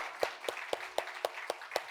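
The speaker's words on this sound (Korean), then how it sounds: "축복의 박수를 함께 나누기를 원합니다" Applause and blessing claps from a church congregation for the young worship band members, heard as a steady train of about eight evenly spaced, crisp claps, moderately close and without talk.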